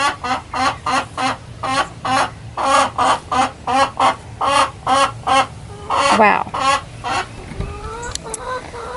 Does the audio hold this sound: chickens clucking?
yes